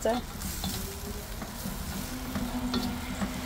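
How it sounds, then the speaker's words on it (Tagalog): Pork chops fry in a pan and crackle loudly as soy sauce goes in, with a steady close sizzle and occasional stirring clinks throughout. "pwede na tayo maglagay ng ating soy sauce"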